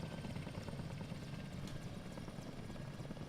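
A simulated Mil Mi-24 Hind helicopter flies by in a flight simulator game, its rotor thumping in a continuous, dense, low churn at moderate loudness with no talking over it.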